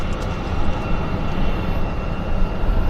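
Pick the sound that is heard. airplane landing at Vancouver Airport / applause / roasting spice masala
airplane landing at Vancouver Airport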